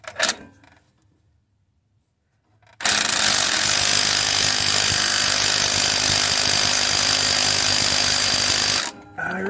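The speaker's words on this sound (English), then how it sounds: "start with my small impact, which does not come close to over-torquing it." A small impact wrench rated around 80 foot-pounds runs on a Mercedes 722.9 4Matic transfer case in a 2011 GLK 350. After a brief tap and silence, it hammers loud and steady for about six seconds, then stops.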